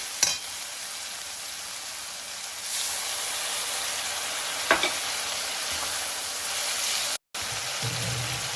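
Water poured into a pan of frying loté fish with ground spices, a steady steamy sizzle and hiss throughout, with a few clinks and a brief break near the end.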